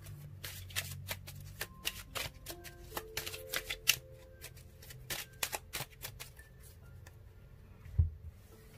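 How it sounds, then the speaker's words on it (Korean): Tarot cards are shuffled and drawn by hand, a run of crisp, close riffling clicks and soft slaps in uneven bursts, with faint background tones and no talk. "한 장씩만 더 뽑아볼게요."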